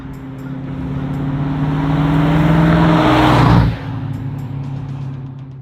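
A 1967 Ford Mustang GT500 restomod engine drones steadily, swelling as it gets on the gas for about three and a half seconds before the note drops off abruptly and settles into a lower idle-like hum.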